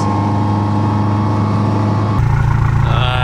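Ford Escort car driving, a steady engine hum and road rumble heard from inside the cabin, shifting abruptly partway through to a louder, rougher drone with faint high whine.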